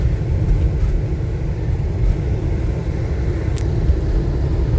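A car travelling eight miles on icy rural roads on a cold morning, heard as a steady low interior rumble and road noise, loud and unbroken, with no voices.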